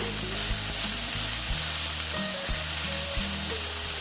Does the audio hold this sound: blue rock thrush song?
no